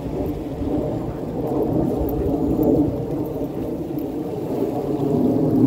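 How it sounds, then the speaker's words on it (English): Military aircraft flying over near Las Vegas air force bases: a loud, steady low rumbling roar filling the background throughout, with no talk. "Can hear in the background is military aircraft."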